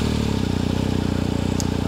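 A 2023 BMW GS Adventure motorcycle engine runs at a steady, even idle with a close, low throbbing pulse and no talk over it.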